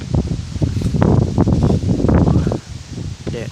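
Wind blowing outdoors around a bird-trapping spot in rural Laos or Thailand, a continuous rough rustling gust that swells and fades near the microphone, with faint voices underneath.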